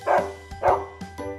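A dog gives a series of short, friendly barks, about four quick woofs close by, alone without talk.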